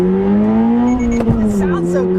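A 2022 Toyota GR86 accelerates with a steady, rising engine drone heard from inside the car, loud and continuous with a faint brief click partway through; a voice may murmur faintly underneath.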